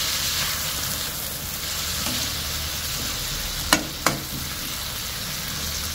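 Onion, garlic and tomato sauté in a pan, giving a continuous loud sizzle with no talk, and two sharp utensil knocks late in the sequence.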